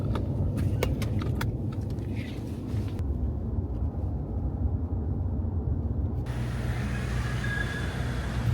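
Cabin of a moving car on a ride, a continuous low rumble of engine and road noise with a few brief rattles and clicks early on, no talking.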